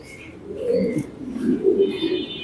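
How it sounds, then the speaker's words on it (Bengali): European racer pigeons on a farm coo softly in several low, throaty phrases, close by, with faint chirps in the background and no talking. "এটা হচ্ছে এটা ইউরোপিয়ান রেসার কবুতর কালারিং রেসার"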